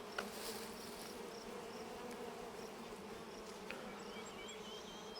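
Honey bees swarm and hum around an opened hive with comb, nectar and pollen, a continuous low buzzing drone that stays fairly soft and steady throughout, with no voices.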